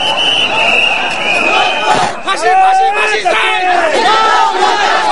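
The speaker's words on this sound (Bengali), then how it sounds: "১৩ দফা দাবির পক্ষে স্লোগান দেয় হেফাজতের কর্মী সমর্থকরা" Crowd of Hefazat supporters chanting slogans in unison on a highway, loud and massed shouting voices rising and falling in rhythmic calls throughout.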